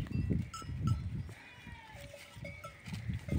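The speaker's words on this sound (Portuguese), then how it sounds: "Só se vê bode berrando acolá pra dentro." Several goats bleat in short, wavering calls on a farm near Petrolina, Brazil, some close and some farther off, with a faint metallic clink in the background.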